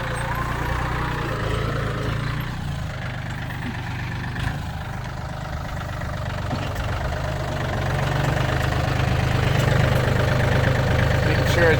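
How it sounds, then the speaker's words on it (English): A small farm tractor engine idles in a steady low rumble close by, holding an even level that swells slightly toward the end. "It's a good little tractor for the farm."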